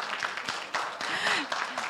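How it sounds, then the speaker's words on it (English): Applause from a congregation at a church induction service, a dense wash of clapping lasting about two seconds with cheering voices mixed in. "Let's give her a round of applause, guys."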